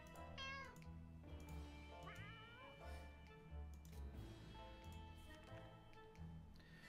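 A cat meows in the survival video game 60 Seconds, a single rising, wavering call near the start and a second shorter one around two seconds, heard over a steady, busy game soundtrack with no talking.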